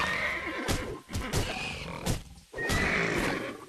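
Horse neighing in the video game Titan Quest, several loud close whinnies in quick succession with brief gaps between them, heard alone.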